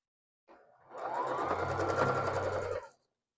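A sewing machine stitches a scrap quilt block in one steady, close run of rapid mechanical whirring lasting about two seconds, starting and stopping cleanly.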